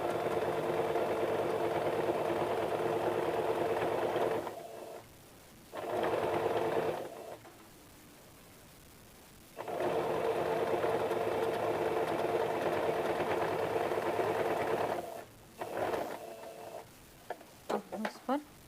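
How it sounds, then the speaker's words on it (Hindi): Electric sewing machine stitching a size 40 four-tuck blouse, running in long steady bursts with brief pauses between runs and a few short stops near the end. "आराम से इस पर हम स्टिचिंग लगाते हैं।"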